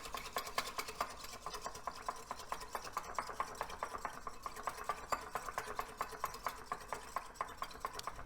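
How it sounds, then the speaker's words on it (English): A whisk beats a sauce with brown sugar for gluten-free chicken lo mein, making quiet, rapid, steady ticking strokes against a bowl throughout, with no talk. "I'm going to put that together, and we're going to whisk this until it's nice and combined."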